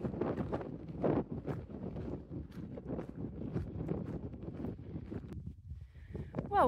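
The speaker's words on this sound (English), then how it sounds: "A little bit of the wind." Wind blowing across the microphone on an open hillside descent in the Yorkshire Dales, just below the cloud line: a steady, rough buffeting roar that swells and dips throughout, with faint rustling and a brief higher whistle near the end.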